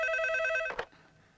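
A telephone ringing in a Hindi horror film, one bright electronic ring tone that cuts off abruptly with a click as the receiver is picked up, leaving quiet.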